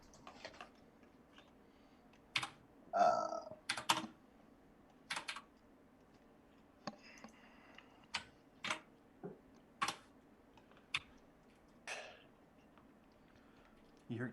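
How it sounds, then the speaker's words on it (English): Computer keyboard keys typed in irregular bursts, sharp clicky clacks with pauses between, close and fairly faint in a quiet room. "you hear clickety clacks of keys being typed"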